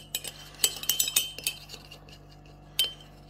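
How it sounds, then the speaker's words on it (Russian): A spoon clinks quickly against the inside of a cup several times, then a pause and one last chime, close and clear with no talking. "Мешаю."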